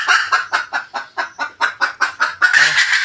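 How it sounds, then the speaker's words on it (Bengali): Caged hens cluck in a quick, steady run of close, rhythmic calls, finishing with a louder, drawn-out squawk. "খাঁচার ভেতর মুরগি আছে, অনেকক্ষণ থেকে ডাকছিল"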